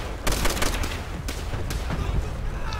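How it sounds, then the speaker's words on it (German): Gunfire in Call of Duty: World at War, a burst of rapid machine-gun shots and scattered single cracks over a rumbling battlefield background, fairly close and loud. "ich höre nur die Schießen"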